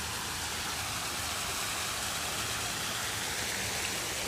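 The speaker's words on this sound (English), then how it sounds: "Look at that waterfall. Yep, comes straight down that way." Broadband rushing water from a waterfall pouring straight down, a steady, loud, continuous roar with no break and no voices.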